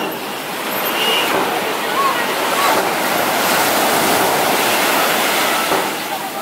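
Ocean surf rolls in at South Beach, a dense steady wash of breaking waves with some wind, loud and continuous, while a person talks over it.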